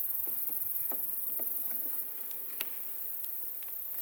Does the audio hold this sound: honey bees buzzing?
yes